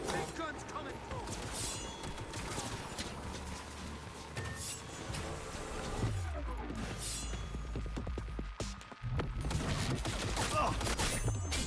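Heavy gunfire from a big gun in the video game Cyberpunk 2077, a dense, sustained rattle of rapid shots with clanking mechanical noise, fairly quiet in the mix, continuing without a break.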